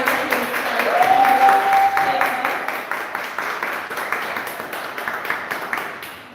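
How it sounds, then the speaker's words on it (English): An audience at a book launch gives a round of applause for the writing, a sustained wash of clapping that swells early and then gradually thins and fades. A faint tonal whine runs briefly underneath. "Can we just give a round of applause for the writing?"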